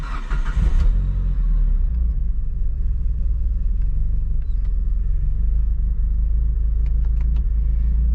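A JDM Mitsubishi Evo 8 engine drones steadily from inside the car while driving around a neighborhood, a loud, continuous low rumble with a brief rise in the first second and a few faint clicks later.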